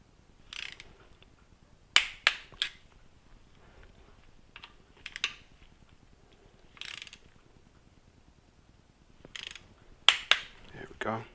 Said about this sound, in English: Am I the only one that feels like torque wrenches are fun to use?